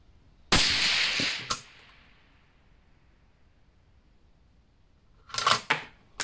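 A scoped rifle fires once at an outdoor range while being sighted in, giving a sharp, loud crack with a short decaying tail, followed by quiet and then a brief cluster of clattering handling noises.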